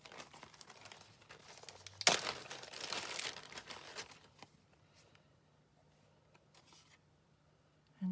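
A paper bag of estate sale items is handled up close, with soft crinkling that bursts into a loud rustling crumple for a couple of seconds, then fades to faint occasional rustles, no talk.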